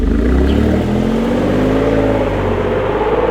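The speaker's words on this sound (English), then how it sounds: "It howls at the upper end of the rev range." A Maserati Grecale Trofeo sports SUV engine revs hard and climbs to a loud, howling high pitch, close and sustained, with no talking.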